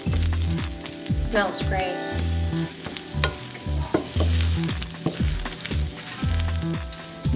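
Sliced almonds toasting in butter in a pan until golden brown for rice pilaf, with a steady close sizzle and repeated scraping stirs throughout, and a brief voice speaking over it.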